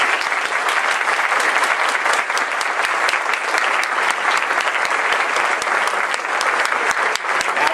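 Sustained, dense applause from an audience at the Comics Pro Industry Appreciation Award ceremony honoring a Diamond Comics staffer, even and loud throughout with many sharp individual claps standing out.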